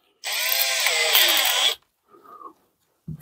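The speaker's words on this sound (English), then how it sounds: "So if you put that into your drill," A power drill fitted with a countersink pilot bit whirs steadily for about a second and a half, then stops, followed by a brief fainter scraping and a small knock.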